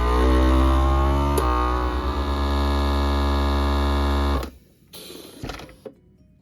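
A FoodSaver vacuum sealer pumps air from a jar through its accessory port, a loud steady motor hum for about four seconds that cuts off abruptly, followed by a few faint clicks and rattles.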